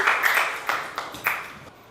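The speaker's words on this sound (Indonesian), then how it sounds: "beri tepuk tangan lagi sekali untuk kelompok pelukis" A classroom of students claps for a group of young painters, a short burst of several sharp, uneven claps that thins out and fades within two seconds.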